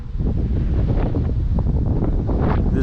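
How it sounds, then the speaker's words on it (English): Gusty wind blows at Bucks Lake during trout fishing, buffeting the microphone with a loud, continuous low rumble that stays steady throughout. "This wind could fuck off"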